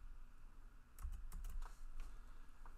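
Soft, quick keystrokes on a computer keyboard in a short burst of uneven taps, faint and close, with no voices.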